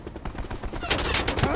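Sniper gunfire and game action in Call of Duty Blackout, loud bursts of shots with dense crackling noise that rise in the second half, over a busy mix of game sounds.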